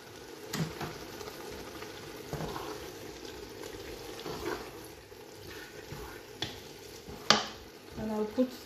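Eru with chopped crayfish cooking in a pot, a quiet continuous sizzle with intermittent scraping and clacking of a spoon stirring, louder knocks near the end.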